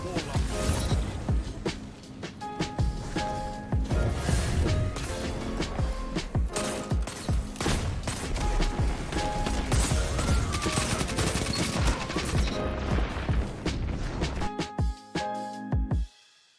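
Raid weapons fire in Destiny 2 PvP combat, with dense rapid gunfire, bursts and automatic volleys layered with mechanical clacks and impacts, loud and nearly continuous before cutting off abruptly at the end.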